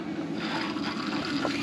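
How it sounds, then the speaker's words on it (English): Water runs steadily through the gas boiler of a shower in a van, giving a continuous soft rushing hiss with a faint trickling texture, close and quiet. "as soon as the water's flowing through, the boiler starts to heat up"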